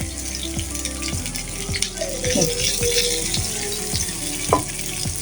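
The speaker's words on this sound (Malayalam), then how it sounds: "സബോള ഇട്ടൊന്ന് വരട്ടുക" Onions frying and being stirred in a pan for chicken curry, a steady close sizzle broken by repeated scraping strokes and a few clinks of the utensil, with no talking.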